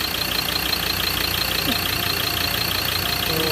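A Ford Ranger Wildtrak engine idles steadily while its serpentine belt is checked for a grinding, squeaking noise, giving a constant close mechanical drone with no clear change in pitch.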